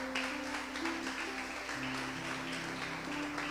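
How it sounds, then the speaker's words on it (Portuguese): A congregation at a church service held in a garage applauds: a faint, steady wash of clapping that runs for several seconds over sustained keyboard-like tones. "Aplauda ao Senhor bem forte."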